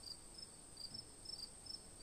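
A cricket chirps at night in short, high, evenly spaced bursts, faint and steady against a quiet background.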